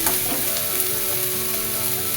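Vegetable poha with coconut fries in a pan, making a dense, steady sizzle that stays loud and close for a brief moment without speech.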